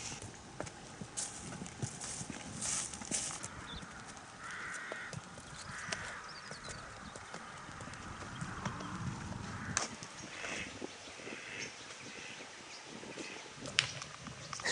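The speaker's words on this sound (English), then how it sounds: "Looks like we've caught cow rush hour." Cows' hooves clip-clopping steadily along a country road near a farm in Cheshire, a fairly close, continuous patter of many steps with faint outdoor ambience and an occasional bird call.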